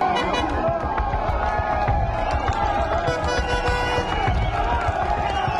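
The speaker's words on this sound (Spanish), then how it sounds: "fueron recibidos por pobladores entre aplausos y gritos" Villagers in Chiapas greet an arriving armed convoy with clapping and shouts, a busy crowd of claps, cries and voices mixed with vehicle noise.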